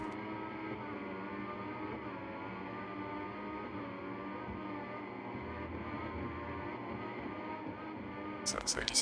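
Formula 1 cars, including a Williams and a McLaren, racing at the 2014 Malaysian Grand Prix: a steady, faint high-pitched engine whine with shifting harmonics, heard at a distance and ending in a brief burst of noise.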